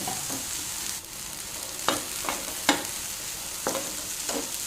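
Dried shrimp sizzling in a hot pan, a continuous bright frying hiss broken by a few scraping stirs, close up and without talk.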